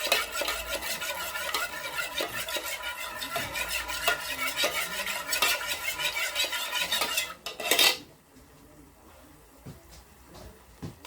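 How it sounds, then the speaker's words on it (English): Utensil stirring melted wax for spring wax melts in a metal pot, with a rapid, steady scraping and clinking close by that stops abruptly near the end, leaving quiet room tone. "Stir this up."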